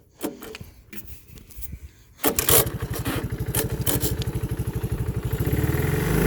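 A cold 1981 Honda 185S motorcycle engine is kicked over with a few sputters, then catches and settles into a loud, close, steady single-cylinder putter that slowly builds.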